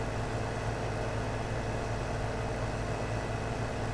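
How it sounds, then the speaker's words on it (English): A steady, heavy low train engine rumble in Farming Simulator 17 drones continuously with a vibrating quality, dense and loud throughout with no pauses. "that train is super loud in the background."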